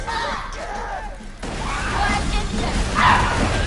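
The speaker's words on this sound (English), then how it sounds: "Oh my God, that dog. The dogs are upset." Dogs bark in a Borderlands 2 battle amid gunfire and booming effects, with sharp yips and barks cutting through a busy, noisy game mix.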